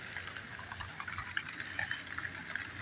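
Water sprays steadily from a purple garden hose outdoors on a wet day before the first freeze, a continuous close hiss with small splashy bursts and no talking.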